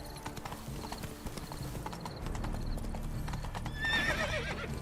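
Roach, a horse in The Witcher 3, trots with steady clip-clop hoofbeats close by, then lets out a loud whinny near the end, with no talk over it.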